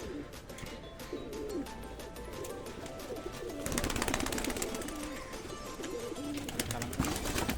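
Male pigeons of the Kalanka and Chennai breeds coo nearby in low, throaty rolling calls, with a voice occasionally talking in the background.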